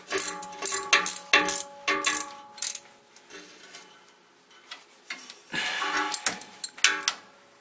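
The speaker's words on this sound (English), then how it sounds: "I'm just going to slowly go and tighten them kind of down in stages" A hand ratchet tightens the bolts on a vehicle's differential cover in stages, producing close bursts of rapid metallic clicking separated by short pauses, with no talk over it.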